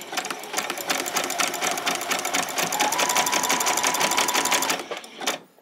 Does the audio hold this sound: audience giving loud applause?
no